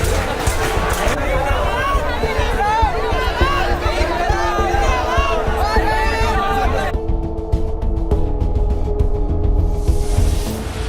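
Dense, jam-packed crowd of people crammed together with no room to move, a continuous loud babble of many overlapping voices and shouts close by, turning to a steadier, muffled crowd roar toward the end.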